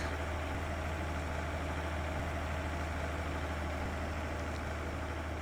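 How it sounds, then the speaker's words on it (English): A truck engine idles steadily in a farming video game, a constant low rumble with an even drone that holds unchanged from start to finish, alone and close. "Hop in this truck."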